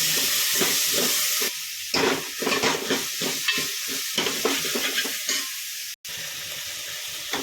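Soaked peas being stirred in a pan of hot oil with turmeric, salt and coriander, a continuous sizzle broken by repeated scraping strokes of a spoon, close and fairly loud with no talking.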